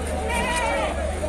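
Sheep and goats bleat at a Tuesday livestock market in the APMC yard of Tumakuru, a couple of nearby wavering calls rising over steady background crowd noise and murmuring voices.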